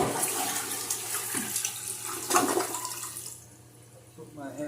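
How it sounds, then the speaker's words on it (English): Toilet flushing through a newly installed tank flapper with a shortened chain: a loud, close rush of water that swirls for about three seconds, then drops to a quieter trickle and refill, with no talk. "We got the second flush going."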